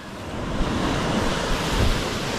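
Loud, continuous ocean surf with waves washing and rumbling, mixed with gusty wind buffeting the microphone.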